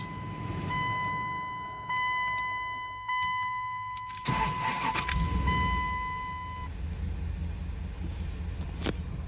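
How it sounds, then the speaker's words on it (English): A car engine idles low and steady, with some clicks, keys jingling and brief mechanical whirring over it, and a thin electronic chime tone early on. "Got it idling nice and smooth."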